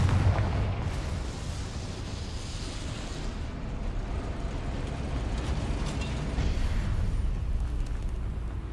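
Confringo blasting spells exploding in Hogwarts Legacy on Xbox Series X, a loud continuous rumble of booming blasts with a heavy low-end roar that swells and surges throughout, no talk audible.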